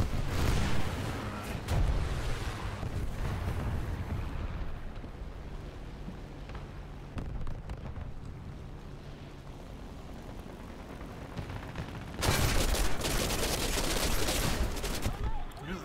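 Tank guns and gunfire in War Thunder rumble and crack in dense volleys, loud at the start, easing into scattered distant shots and rumble, then erupting again in heavy sustained fire near the end.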